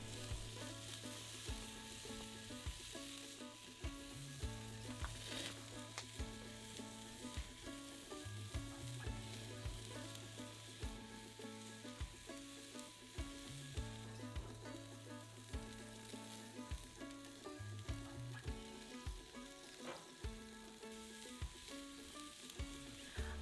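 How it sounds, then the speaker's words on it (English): Two New York strip steaks sizzle on a grill in a steady, continuous hiss, with tonal background music running alongside throughout. "now that our steaks are on the grill"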